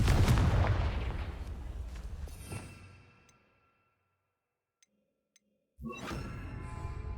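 A loud booming blast from the Confringo spell in a Harry Potter video game rumbles and slowly fades into near silence, followed by faint pings and then a sudden new burst of sound.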